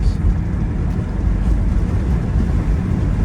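A 1994 Acura Legend on the freeway, heard as a loud, steady low rumble of engine and road noise mixed with wind, with no distinct rise in pitch.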